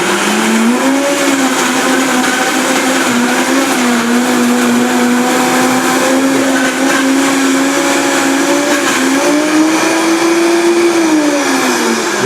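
A kitchen blender purées detox soup with a loud, continuous motor whine that holds steady, then rises and falls in pitch as the contents churn, with no talking.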